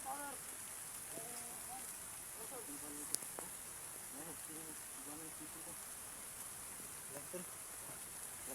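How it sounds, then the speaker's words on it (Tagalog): Rain falls as a steady, faint hiss of drops on surfaces outdoors, with faint bits of people talking in the background. "Ulan."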